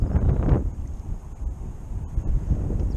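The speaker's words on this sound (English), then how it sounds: "Right now the wind almost trying to blow me into the bank here." Strong wind blowing over a marsh, buffeting the microphone in low rumbling gusts, loudest at the start, then steadier roaring, close and without talking.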